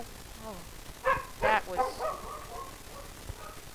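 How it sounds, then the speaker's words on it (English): A real dog barks a few times in the background, short muffled woofs breaking through while a person talks over them during a game session. "That is a dog."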